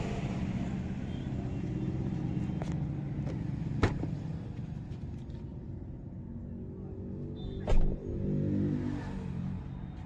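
A Tata Safari's diesel engine idles with a low, steady rumble close by, marked by a few sharp clicks and a brief louder surge near the end.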